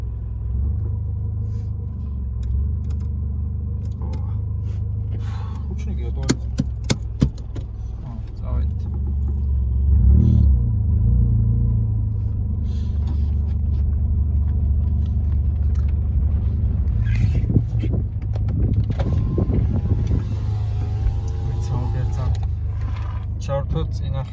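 A Mitsubishi Pajero iO drives along with a steady low engine rumble from inside the cabin, with rattles, jingling keys and shifts in engine tone as it moves, and someone talking over it.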